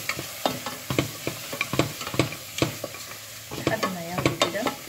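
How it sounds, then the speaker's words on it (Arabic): A spoon stirs frying onions with biryani spices, a bay leaf and a dried lime in a pan, giving irregular scraping knocks over a soft sizzle, close and fairly quiet. "والليمونة اللي هي المجففة، ونقلبهم كده مع بعض"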